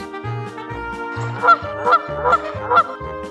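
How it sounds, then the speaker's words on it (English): A goose honks four times in an even rhythm, each call a loud, close nasal honk with clean harmonics, heard alone without talk. "goose, ganso"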